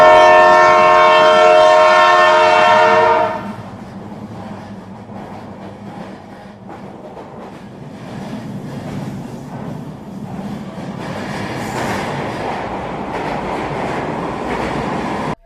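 A fast train runs on rails, opening with a loud, sustained horn blast for about three seconds, then a steady rumble and clatter of wheels that builds slightly as it continues, with no talk.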